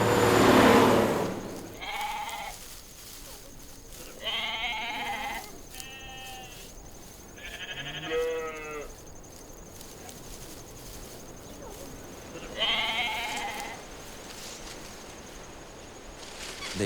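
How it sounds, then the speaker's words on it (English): Goats on the Galapagos bleat in a series of wavering, nasal calls, several separate cries spaced a second or two apart over a steady outdoor background hiss, moderately close. "Goats."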